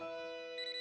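A cartoon phone ringtone in a Boonie Bears cartoon plays alone, a steady electronic tone that shifts to a brighter pulsing melody partway through, moderately loud and close.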